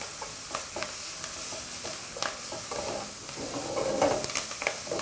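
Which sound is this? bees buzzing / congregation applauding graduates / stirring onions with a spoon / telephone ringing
stirring onions with a spoon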